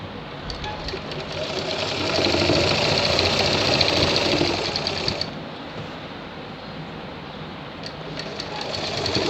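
A sewing machine stitching a shirt runs in a fast steady mechanical rattle, swelling louder for a few seconds and then easing, close and continuous.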